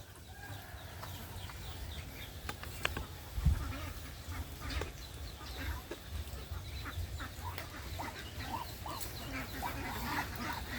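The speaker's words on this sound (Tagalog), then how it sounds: "Yan ang mga kukulit kong pato." Ducks being fed quack and chatter repeatedly outdoors at moderate distance, mixed with other fowl calls and a brief thump.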